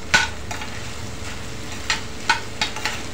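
Corn kernels sautéing in butter in a pan for cheese corn, giving a steady low sizzle broken by a few scraping stir strokes, close and moderately loud with no talking.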